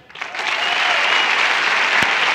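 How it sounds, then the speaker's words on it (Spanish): Studio audience at a Colombian comedy talk show breaks into loud, dense applause that swells quickly and holds steady, with no talk over it. "Un aplauso para ellos."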